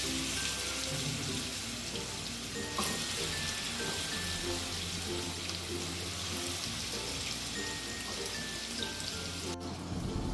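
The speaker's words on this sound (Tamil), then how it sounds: "எண்ணெய் சூடாகிடுச்சு, ப்ரானை போட்டு பொரிச்சிருவோம்." Prawns sizzle in hot oil in a pan, a steady, dense crackling and spitting that runs without a break at moderate loudness, with no voices.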